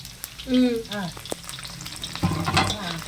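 Chana dal fries in a pan: a brief voice-like sound comes first, then sizzling with scraping and clattering of stirring that grows busier toward the end.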